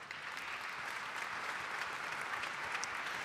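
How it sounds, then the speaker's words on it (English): Steady applause from a conference audience thanking a panel of speakers at an energy conference, dense and continuous clapping throughout with no voices above it. "Can we please thank our panelists with a round of applause?"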